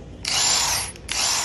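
A Snap-on brushless half-inch cordless impact wrench whirs loudly in two close bursts, the second following a brief pause.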